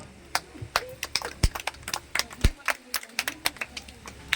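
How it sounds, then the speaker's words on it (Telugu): Guests clap hands at an engagement ceremony, a scattered run of sharp claps of varying loudness, fairly near, with voices murmuring underneath. "క్లాప్స్ కొట్టండి."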